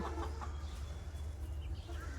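Desi hens cluck softly in short bursts on a rooftop over a constant low hum.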